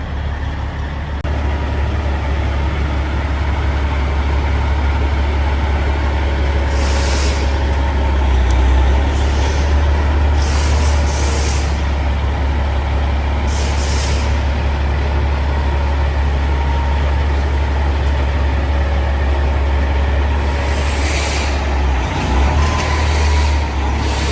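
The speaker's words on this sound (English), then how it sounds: "we're going to pull the truck in the shop right now" A truck that had been sitting in a field, with fluids not reaching the diffs, rumbles steadily as it is pulled into a shop, a deep continuous idle and engine drone with a few brief higher hisses and no talk.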